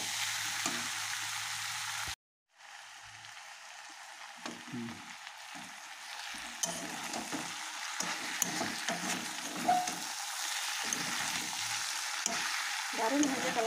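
Meat cooking with jackfruit, chopped carrot and coriander leaves in a pan, giving a steady, quiet sizzle broken by repeated stirring and scraping strokes, with a brief pause near the start.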